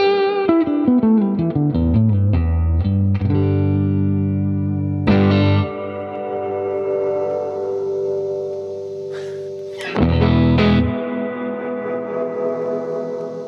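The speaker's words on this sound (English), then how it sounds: "that was maximum amount of reverb" Electric guitar played through a Vox AC-15 amp with reverb turned all the way up: picked notes and struck chords ring out with long, washy tails, distorted and effected, alone with no talking.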